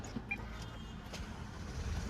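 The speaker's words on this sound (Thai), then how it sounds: "เหยียบเบรกนะครับแล้วกดปุ่มพุชสตาร์ทได้เลยนะฮะ" A 2022 Isuzu D-Max 1.9 X-Series pickup with an automatic gearbox is started with its push-start button, giving a quiet, steady low engine rumble close by that swells slightly toward the end.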